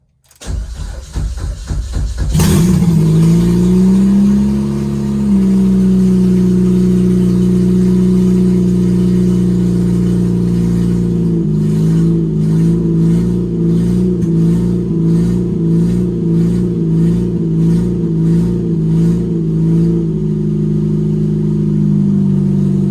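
Intercooled, naturally aspirated Jeep Compass with an open header cranking and starting, then idling loudly before a series of rhythmic revs, a raw, close exhaust rumble with no talk.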